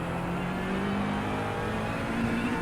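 McLaren 720S GT3 EVO race car engine in the iRacing sim at Mount Panorama, a steady close droning engine note with a slow rising pitch, constant and alone without voices.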